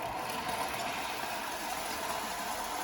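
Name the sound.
clockwork Hornby O gauge tender loco running on track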